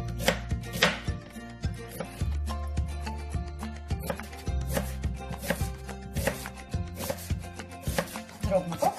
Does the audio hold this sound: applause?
no